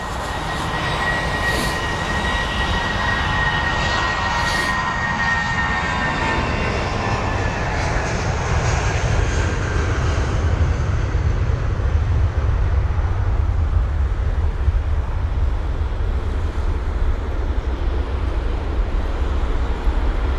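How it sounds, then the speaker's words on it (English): A British Airways Airbus A320 at London Heathrow, its engines producing a steady, loud, broadband roar with low rumble that holds for twenty seconds as the jet moves, with no one speaking. "Got a British Airways A320 on the move."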